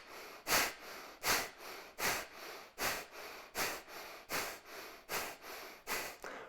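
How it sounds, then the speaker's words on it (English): Kundalini yoga breath of fire: rapid, forceful rhythmic nasal breaths pumped from the navel, about two per second, close and loud, with no talking. "Begin breath of fire."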